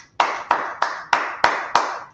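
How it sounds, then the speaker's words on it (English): Six sharp, evenly spaced claps ring out in a steady rhythm at a religious family gathering, each one crisp and close with a short decay and nothing else heard. "Let's clap it up."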